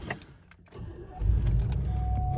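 Gold keys jangle near the ignition of a 1992 Cadillac Sedan Deville, followed by a brief crank as the engine fires up and settles into a steady, close idle rumble.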